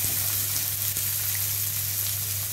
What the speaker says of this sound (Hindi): अब ये चने जो हम बॉईल करेंगे, हम इसमें डाल देंगे मिक्स करेंगे।